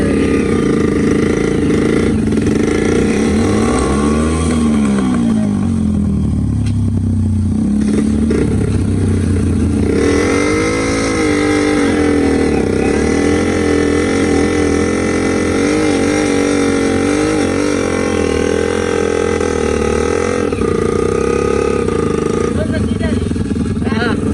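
Motorbike engines straining to pull a soil-laden trolley, loud continuous revving and labored engine drone with rising and falling pitch, people talking over the noise throughout.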